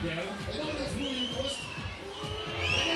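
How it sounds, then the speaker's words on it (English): Crowd roaring and cheering at a 3x3 basketball game on Hajdú Square during a free throw in an Olympic qualifying tournament, a sustained dense wash of voices with whoops rising toward the end, commentary faintly mixed in. "Get the roar from the crowd."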